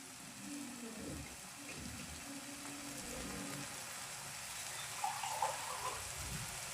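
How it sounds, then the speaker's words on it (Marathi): Water is poured into an onion and tomato gravy for a Bombay duck curry, giving a steady, fairly loud splashing gush that runs throughout, with no talk. "ग्रेव्ही होण्यासाठी आपण थोडंसं पाणी टाकूया"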